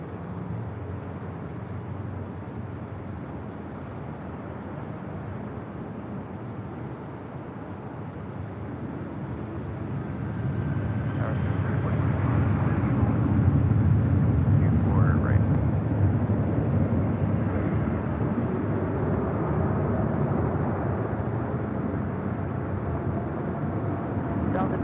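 An airliner takes off at LAX, its jet engine roar building from a steady background rumble into a louder, broad swell that holds to the end, with radio talk present.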